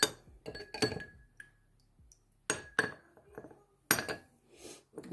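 A spoon mixes cornflour into chicken stock in a glass bowl, making several sharp clinks against the sides in irregular bursts, with quiet pauses between them.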